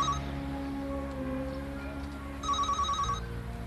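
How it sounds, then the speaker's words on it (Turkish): A telephone rings in a Turkish TV drama, a bright electronic trill sounding in short bursts at the start and again near the end over a low, steady background, with no talk. "Telefon çalıyor."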